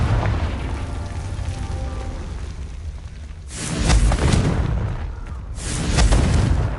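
A Confringo fire spell in Hogwarts Legacy goes off as two loud, rumbling explosive bursts a couple of seconds apart, each swelling and fading over a low ambient drone.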